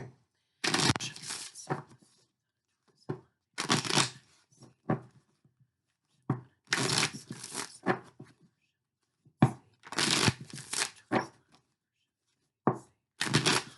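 Mystic Moon oracle card deck being shuffled in repeated bursts of crisp riffling and slapping, several separate rounds with brief pauses between, close and fairly loud with no talk.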